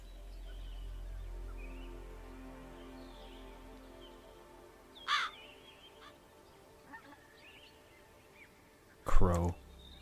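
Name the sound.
crow cawing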